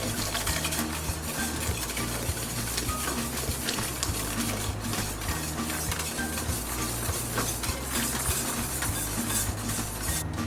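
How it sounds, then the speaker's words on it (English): Egg yolks are whisked into hot heavy cream for a chocolate crème brûlée custard, giving a steady clatter of whisk against the bowl with quick, repeated scraping strokes close by. "Now that I mix my egg yolks in hot heavy cream"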